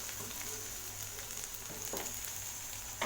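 Onions and curry leaves sautéing in a pan for chow chow sambar, a steady, quiet sizzle with a few soft stirring scrapes, no voices.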